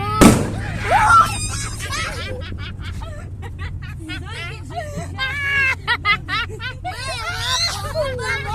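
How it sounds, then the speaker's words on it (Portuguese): A firecracker goes off at a São João street festival, a single sharp bang right at the start, followed by a busy street hubbub of voices and passing traffic. "A bomba, a bomba."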